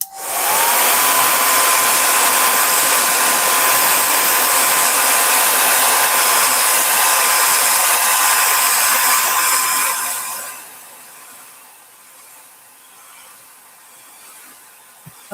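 A heat gun blows hot air onto a piece of metal held in place by a magnet, a loud steady whooshing whine for about ten seconds before dropping to a faint low hum.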